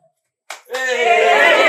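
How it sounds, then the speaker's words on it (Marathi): A single hand clap snaps close by, and a bright, noisy burst rises and holds just after it, at a family farmhouse outing in Vasai. "टाळी वाजव, टाळी वाजवली."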